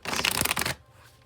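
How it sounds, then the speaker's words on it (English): A quick burst of tarot cards being shuffled, a dense papery riffle that stops abruptly, leaving a faint room hush. "I'll shuffle till I feel like it's ready"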